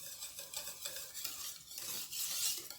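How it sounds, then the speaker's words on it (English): Whisk stirring butter pieces into hot vanilla pastry cream in a pan, a busy scraping, slushy whirl of metal against cookware that continues throughout with no voices. "add in a little bit of butter at a time and whisk it."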